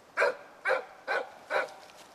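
A caged hunting dog, eager to go after quail, gives four sharp whining barks in an even rhythm, close and loud against a quiet background.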